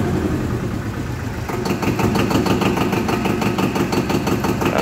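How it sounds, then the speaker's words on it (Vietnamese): The engine of a Yanmar 2210 tractor runs close by with a loud, steady diesel chug that grows fuller partway through, its rapid rhythmic knocking continuing without pause. "Rồi, mấy bác nghe tiếng máy nữa chưa?"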